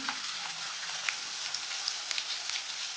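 Onion frying in hot oil for an eggplant and potato curry, a steady bright sizzle with small crackling pops, close and continuous with no voices.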